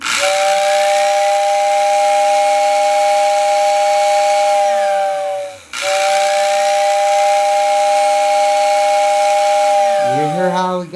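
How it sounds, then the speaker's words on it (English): A postwar toy train whistle blows in two long, loud, steady hoots with a breathy motor hiss underneath, separated by a brief gap, followed by a short sputter at the end. "Okay, our final test is the whistle button."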